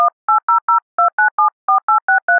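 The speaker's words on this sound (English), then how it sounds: "Dial telephone number" A rapid series of eleven short, clean two-tone beeps of touch-tone dialing generated by DECtalk speech synthesis software, evenly spaced with a brief pause partway, loud and alone.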